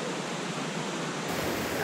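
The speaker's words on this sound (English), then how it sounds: "That's a very nice waterfall." Steady broadband roar of Waitonga Falls, a waterfall on Mt Ruapehu, heard close and loud as continuous rushing water with no pauses and no voices.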